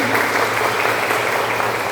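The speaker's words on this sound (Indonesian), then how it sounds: "Bisa tepuk tangan sebanyak-banyak." Audience applause in a school guidance session, a steady dense clapping that fills the whole short stretch at moderate loudness, with a low hum underneath.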